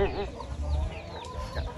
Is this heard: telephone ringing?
no